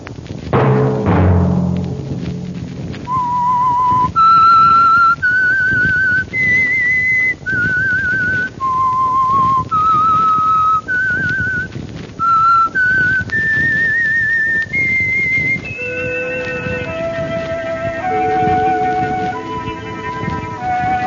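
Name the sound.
whistled radio theme tune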